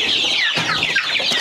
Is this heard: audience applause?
no